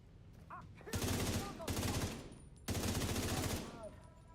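Bursts of rapid automatic gunfire from the video game The Division in an indoor area, three sustained volleys of roughly a second each, loud and close, with faint game sounds between them.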